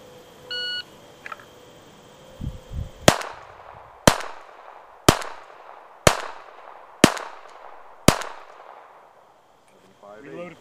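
A timer beeps at a USPSA match at Wauseon, then a pistol fires six sharp, loud shots spaced about a second apart, each with a brief ringing tail. An outdoor range setting, with faint rustling before the shots.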